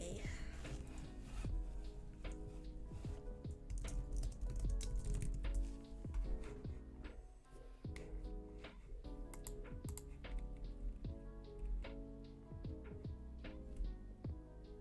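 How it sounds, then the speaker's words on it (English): Rapid typing on a computer keyboard, close and clear, with a steady stream of clicking keystrokes and brief pauses throughout. "just a little bit of ASMR of my typing really quick"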